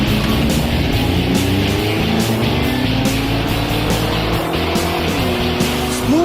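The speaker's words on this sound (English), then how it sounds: "ready to try out the high-mileage engine with its reconditioned turbo for the very first time" A car with a high-mileage engine and reconditioned turbo drives at speed on an airfield, its steady loud engine drone rising and shifting throughout, with no talk.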